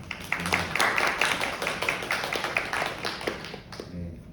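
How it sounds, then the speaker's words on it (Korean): Welcoming a professor as a panellist at a construction policy forum, the audience claps in a moderately sized burst of distinct hand claps, fairly close, fading toward the end. "박수 한번 부탁드립니다"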